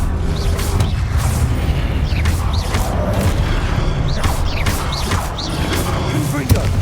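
Repeated blasts of the Confringo fire spell in Hogwarts Legacy, loud bursting booms and crashes recurring every second or so over continuous battle rumble, with a voice sounding now and then.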